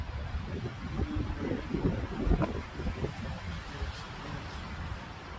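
Low, blustery morning wind in Northern New Mexico rumbles steadily against the microphone, gusting a little louder midway, with no voices.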